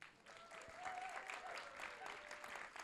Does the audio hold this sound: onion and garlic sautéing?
no